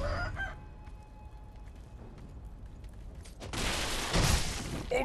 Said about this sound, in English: Oh god, I'm terrified of the chickens.